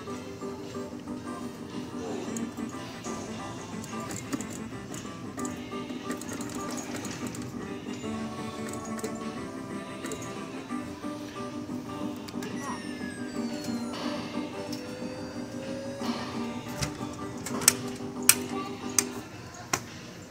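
Coin-operated claw machine running in an arcade, a non-skill payout crane game, with a continuous mechanical hum and whir plus scattered clicks and sharp taps near the end over busy arcade background noise.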